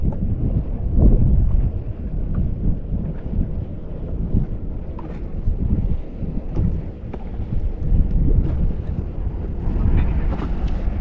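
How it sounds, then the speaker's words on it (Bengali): A passenger boat crosses the open sea in the Andaman Islands, heading toward the listener. Its steady low engine rumble runs the whole time, blended with gusting wind buffeting the microphone. "আর বোটটাও চলে আসছে"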